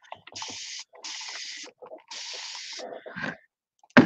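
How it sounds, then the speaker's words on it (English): A spray bottle misting liquid onto an abstract painting, with three long hissing bursts and shorter puffs in between, close by and loud, with no talk over it. "And that's where that wonderful spray bottle comes in."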